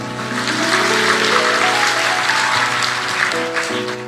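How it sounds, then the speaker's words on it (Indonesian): A church congregation claps loudly and continuously, a dense wash of hands under sustained music or singing, steady throughout the few seconds. "kasih tepuk tangan buat Tuhan"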